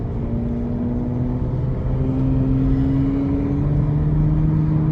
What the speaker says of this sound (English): Car shifting very good.